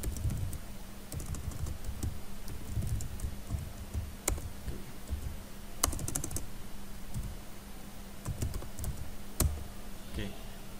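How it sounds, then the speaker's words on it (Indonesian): Close, steady typing on a computer keyboard while data is entered, with rapid clicking keystrokes and occasional sharper key strikes over a faint background hum. "Misalkan saya ingin input 24 untuk user ID nya dengan username Ivan."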